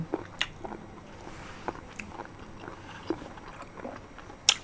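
Close, wet biting and chewing of field snails eaten with spicy papaya salad, with soft squishy mastication and a few sharper crunchy bites, quiet and without talking.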